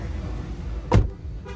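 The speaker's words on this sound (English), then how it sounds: "So now let's stay inside the car. Close the door." A single solid thump of a car door shutting on a 2022 Honda City Hatchback RS, heard from inside the cabin as one short, deep, muffled impact over quiet background.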